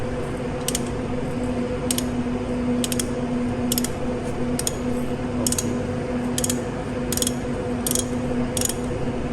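A ratchet wrench turns the exhaust nuts on a Yamaha MT-09 motorcycle, with rapid, crisp, close clicking in repeated short bursts over a steady background hum.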